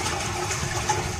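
Water runs steadily from a sink as hands are washed in the video game Silent Still, a short burst of constant splashing hiss with no voices.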